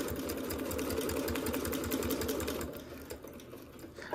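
A sewing machine stitches around a seatbelt cover in black thread, a rapid mechanical clatter running steadily and close before easing off near the end.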